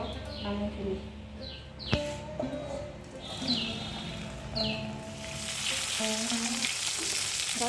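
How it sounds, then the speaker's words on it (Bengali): Chhatni fish frying in a pan gives a steady sizzle that grows stronger toward the end, with bird chirps and voices in the background. "এখানে ছাতি মাছগুলো ভাজছি"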